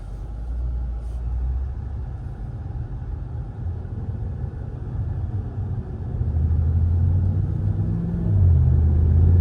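An Infiniti Q50 Red Sport with twin-turbo engine cruises in traffic on a sunny day, heard from inside as a steady low rumble that swells with light acceleration toward the end.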